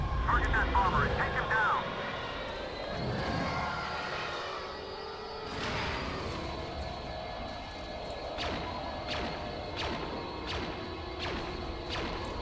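A TIE Bomber roars in flight in the Star Wars Battlefront video game, with a sustained engine whine and whooshing passes, sharp impact cracks near the end, and someone talking over the opening.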